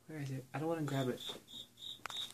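A cricket inside a house gives a series of short, regular chirps, clearly audible under and between a person talking nearby.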